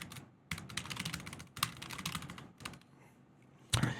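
Fast typing on a computer keyboard, close and crisp, with dense bursts of key clicks broken by short pauses and a heavy final thump.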